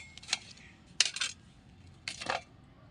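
A knife cuts into a ripe, red watermelon at night with three short, crisp, crunching strokes, close and fairly quiet against a faint background hush.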